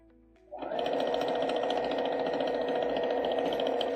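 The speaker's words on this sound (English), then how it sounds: "Making sure that all of that is in my stitch here." A sewing machine starts up after a brief quiet moment and runs in a steady, fast, even whir while stitching through quilt layers of front fabric, prairie points, batting and backing, close and alone.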